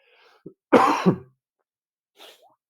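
A single harsh, throaty cough bursts out close and loud, preceded by a small catch of breath and followed by a faint trailing throat sound, otherwise surrounded by quiet.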